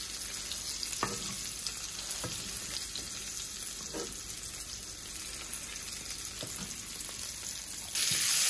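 Onions and green chillies sizzle in hot oil in a pan where fish was just fried, a steady broad frying hiss with occasional stirring clacks, rising louder near the end.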